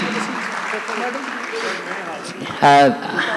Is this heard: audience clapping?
yes